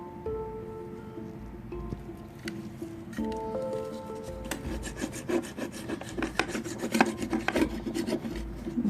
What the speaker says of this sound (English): You hear that razor catching in that crack